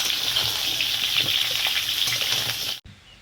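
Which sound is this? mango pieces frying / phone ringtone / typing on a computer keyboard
mango pieces frying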